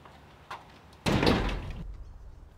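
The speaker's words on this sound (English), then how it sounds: "Leanne, quick lock the front door." A front door being shut and locked: a faint click, then a loud, close slam that rings out and fades over almost a second. No voices.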